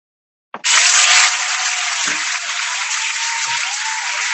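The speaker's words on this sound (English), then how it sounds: "Et je vais peut-être en envoyer aussi un pour Tadashi qui n'a pas eu droit à son applause." An online awards ceremony for an automotive technology prize erupts in sudden, loud, sustained applause from a crowd, starting sharply and continuing steadily without talk.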